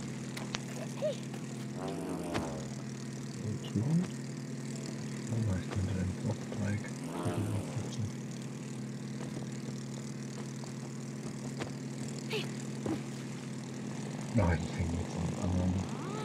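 In the video game It Takes Two, an airplane's propeller engine drones steadily for over sixteen seconds, a low humming tone under intermittent talking and playful vocal noises from the players.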